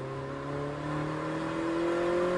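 A Mini GP2 motorbike accelerates on a driving-centre track. Its engine gives a loud, continuous whine that climbs steadily in pitch as it revs up, close by and with no talk.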